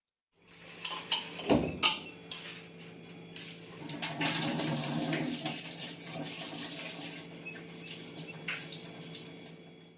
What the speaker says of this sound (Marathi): याला आपण स्वच्छ धुवून घेऊया